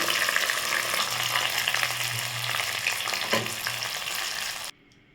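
Mustard seeds crackle and sizzle in hot oil as a tempering for coconut chutney, a loud, dense frying hiss that runs steadily for nearly five seconds with a brief stir, then cuts off abruptly to near silence.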